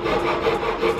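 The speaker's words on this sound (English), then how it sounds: "I started using the handsaw, doing my best." A handsaw cuts through wood for a window box outdoors, giving a quick rasping stroke that rubs back and forth at close range with no talk.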